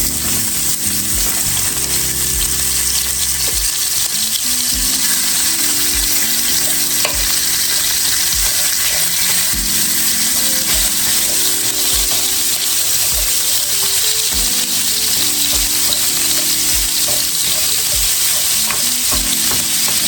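Half a pound of ground beef browning in hot grease, a steady loud sizzle with occasional stirring scrapes and clinks throughout.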